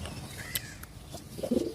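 Pigeons in a loft during hot weather, with a short low coo near the end over faint background noise.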